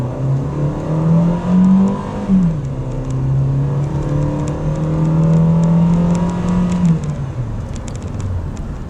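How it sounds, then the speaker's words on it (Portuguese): A Fiat Cronos Precision 1.8 AT6 with automatic transmission accelerates from low revs, its engine note climbing, dipping at a gear change and rising again in a steady, moderately loud drone heard from inside the cabin. "eu vou acelerar um pouquinho para vocês sentirem a potência do carro ainda em baixa rotação"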